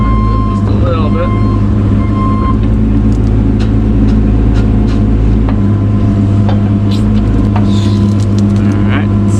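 Diesel engine of a Cat 303 mini excavator running steadily with a loud low rumble while loading a truck on a brick driveway prep site, speech over it.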